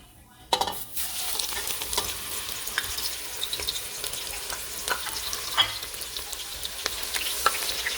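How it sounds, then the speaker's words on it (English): Onion dropped into hot vegetable oil in a pot for egusi soup: a sudden burst of sizzling, then a steady bright hiss with crackles and scattered pops, close and continuous with no talking. "the oil is somewhat hot right now, so I'm going to introduce my onion into the pot"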